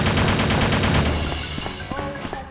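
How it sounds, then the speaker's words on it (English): Rapid automatic gunfire in Resident Evil: Survivor rattles loudly for about a second, then trails off into scattered echoes and a brief voice. "Stop it with the shooting."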